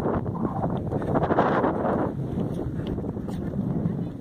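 Warm wind gusting at Delicate Arch in Arches National Park, a dense, close buffeting roar across the microphone that peaks briefly and then settles into a steady rush.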